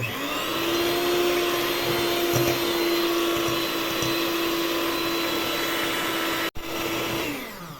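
An electric mixer beating eggs with salt gives a steady motor whine and whir with faint knocks of the beaters against the bowl. A brief cut comes near the end.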